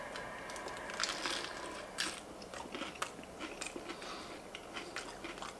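Crisp bites and steady chewing of vegan lettuce bites dressed with balsamic mustard vinaigrette sound close to the mic, with repeated crunchy, wet mastication and no talking.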